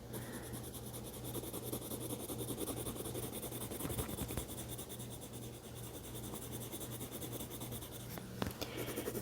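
Colored pencil scratching steadily across paper while a third brown layer is built up on a sunflower drawing, a continuous close, soft scraping texture with no talking.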